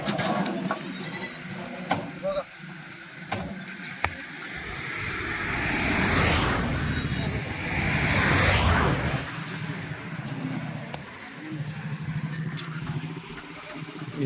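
Kathiawari goats bleating in a group near a vehicle, scattered calls over outdoor background noise with a passing engine swell midway.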